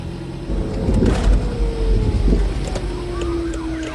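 Police cars drive past on a street with sirens wailing, rising and falling tones over traffic rumble, moderately distant and swelling then easing away over a few seconds.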